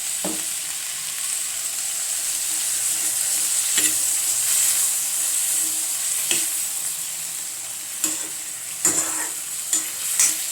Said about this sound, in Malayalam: തേങ്ങ വറുത്തരച്ച് വെച്ചിട്ടില്ലേ, അത് ഒഴിച്ച് കൊടുക്കാം